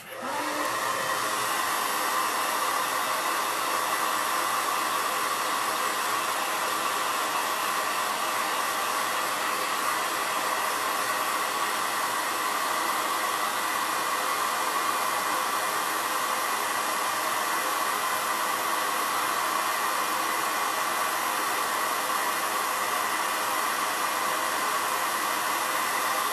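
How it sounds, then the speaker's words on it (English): A hair dryer blows steadily for the whole stretch, drying paint on a farmhouse wood board, its loud, even whooshing roar close by and unbroken, with no voices. "I got a blow dry so we can put on another layer"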